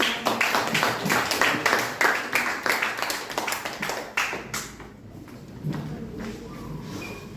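A classroom group claps after a student presentation, quick rhythmic hand claps close by that taper off and stop about two thirds of the way through, followed by quieter room sound.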